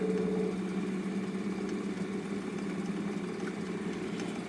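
A homemade pulse motor with an N-S magnet arrangement runs steadily after its load is removed, giving a continuous faint hum with a fixed low whine and no voices.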